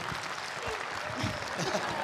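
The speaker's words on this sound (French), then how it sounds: "Applaudissements" Audience applause fills a conference hall at a French gaming convention, steady broadband clapping lasting about two seconds with a murmur of voices underneath.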